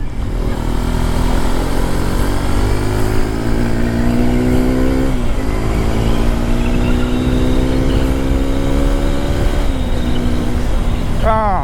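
A Hero Xpulse 210 motorcycle accelerates toward top speed, its engine note climbing steadily through the gears, loud and close with wind roar throughout and a brief dip at each shift.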